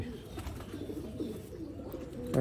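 Sialkoti roof pigeons coo in soft, low, rolling phrases close by against a faint background, with a slight rise in noise at the very end.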